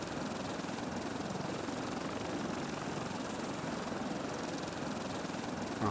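A gyrocopter flies in the survival video game Stranded Deep, giving a loud, continuous rotor and engine drone. The whirring roar holds steady throughout, with no speech over it.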